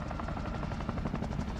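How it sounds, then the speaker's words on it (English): Helicopters in the Call of Duty Warzone Verdansk video game thump overhead, a steady, loud rotor chop pulsing rapidly and close, with no talking. "Oh, wow, look, helicopters."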